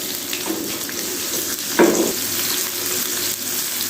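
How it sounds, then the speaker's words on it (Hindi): Sliced onion hitting hot oil in a pan with white cumin seeds for an Afghan omelette, a steady broad sizzle with a louder burst as the onion drops in, close and continuous. "अभी हम इसमें डाल देते हैं ये प्याज है स्लाइस में कटा हुआ"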